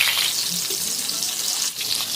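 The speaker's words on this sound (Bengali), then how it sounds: "এবার আমি বেগুন উল্টে দিচ্ছি এক সাইড ভাজা হয়ে গেছে এক সাইড উল্টে দিচ্ছি" Eggplant slices fry in oil in a pan, a loud, continuous close-up sizzle with a brief dip as pieces are flipped, no talking over it.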